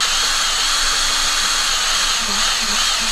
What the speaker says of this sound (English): Get that drill down nice and tight.